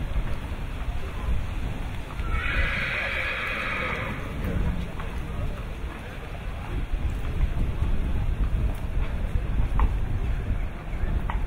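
A horse at a French jumping-horse sale is led at a walk and lets out a clear, loud whinny near the start, over steady outdoor wind noise with soft hoof steps, while someone speaks throughout.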